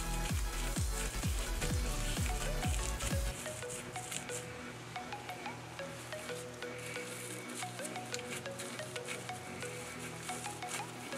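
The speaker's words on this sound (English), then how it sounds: "I actually want to squish it and see what it feels like after you mix it" Cloud slime cake squished by hand: soft, wet crackling and sticky squelches up close. A few heavy low presses come at the start, then quieter, finer crackles continue.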